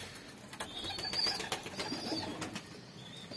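Pigeons coo in a backyard breeding loft holding a golden pigeon and paired birds, a steady low murmur of cooing with faint rustles and clicks throughout, no voices.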